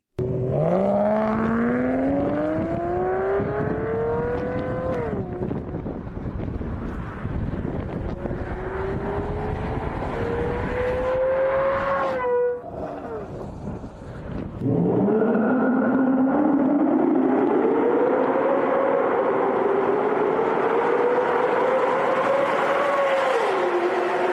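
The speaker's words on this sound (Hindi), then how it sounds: "फिर आई ताज की असली ज्वेल, टोयोटा का V12 इंजन" Toyota Century V12 engine running and revving, pitch sweeping up through gears in long rising pulls, dropping and climbing again, loud and close with steady rushing wind noise throughout.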